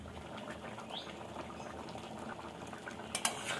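Gravy for a potato curry with yam bubbling at a rolling boil in a pot, a steady faint burble with a few brighter clinks near the end, close by and without speech.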